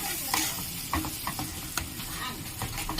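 Dry spice paste for paneer masala being sautéed and stirred in a pan: close, busy scraping and spatula strokes over a constant sizzle.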